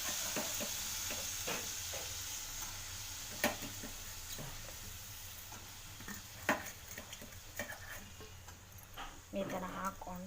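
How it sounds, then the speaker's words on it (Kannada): Spatula stirring green beans with masala, salt and oil in a hot pan for a Kannada-style beans palya, a steady soft sizzle with scattered scraping clicks, a voice speaking faintly under it. "ಎಲ್ಲ ಹಾಕ್ಕೊಂಡು ಇದನ್ನು ನೀಟಾಗಿ ಮಿಕ್ಸ್ ಮಾಡ್ಕೋಬೇಕು"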